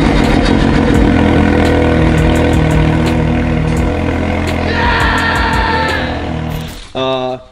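Dirt bike engine with an old exhaust, revved hard to burn off a sand paddle tire: loud sustained engine roar with rising pitch shifts, a brief drop near the end, then a short renewed blast.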